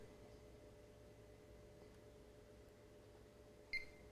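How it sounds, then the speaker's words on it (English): A Dell Alienware X51 R2 desktop under repair gives a single short, high electronic beep near the end, after a faint, steady machine hum, with no talking. "Oh, we got a beep."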